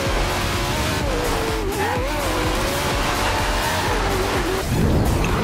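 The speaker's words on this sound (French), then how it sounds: "Faut freiner comme un dingue." A race car in Forza Horizon 2 brakes hard with a sustained, wavering tire squeal over a loud engine roar, close up and running the whole time, ending in a surge of engine noise.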